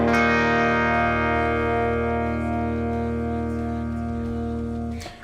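A sustained electric guitar chord rings out through a wet, splashy spring reverb, surf-style, slowly decaying over several seconds before a brief clatter at the end.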